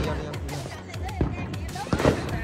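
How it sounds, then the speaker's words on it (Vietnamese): Fireworks set off at a home Fourth of July celebration crack in a few sharp, close pops, mixed in with people talking nearby. "Ok, mọi người ra khai pháo."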